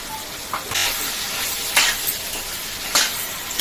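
Ginger garlic paste frying in a pan, a continuous loud sizzle with a few brief stirring scrapes and bursts, with no talk over it.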